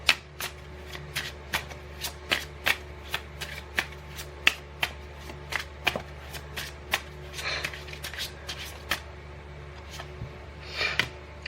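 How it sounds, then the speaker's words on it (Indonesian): Tarot cards being shuffled by hand in a quiet room, a long run of crisp, rapid riffling bursts and soft slaps repeating steadily and close by, with no talking. "Aku shuffle kartunya."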